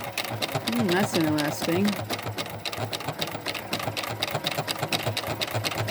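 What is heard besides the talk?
Juki HZL-F400 sewing machine stitching a decorative stitch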